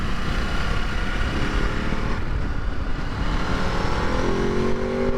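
Ducati DesertX 2022 adventure motorcycle with a 21-inch front wheel, heard on the move as a steady, loud engine drone with rising pitch toward the end, no voices.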